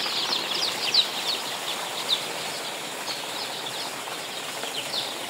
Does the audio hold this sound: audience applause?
no